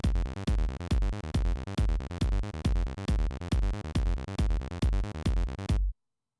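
A step-sequenced synth pattern on a Korg Electribe 2 pulses in loud, evenly spaced notes with bright harmonic tones and a steady rhythm, then stops abruptly into silence.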